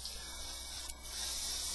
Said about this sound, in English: Just hold down the trigger, just blow out regular air with no paint